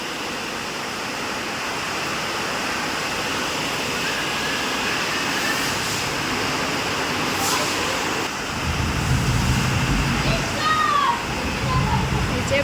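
Heavy monsoon rain pours outside a kitchen under dark clouds as a constant dense hiss, with a deeper rushing rumble of water swelling in during the last few seconds.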